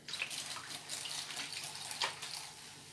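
Water splashes steadily onto a microgreens seed tray freshly sown with lettuce seeds, a close, continuous hissing patter with small bursts as the stream shifts, heard alone without voices.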